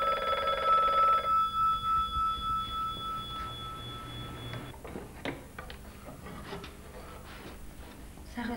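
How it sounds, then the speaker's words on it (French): An old-fashioned telephone bell rings in a rapid repeated trill for the first few seconds, fairly loud, then gives way to faint scattered knocks and rustling with no speech. "Ça ressemble à un portable."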